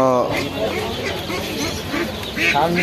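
Ducks quack repeatedly at a busy rainy-day poultry market, nasal calls rising over a constant crowd murmur, with people talking nearby.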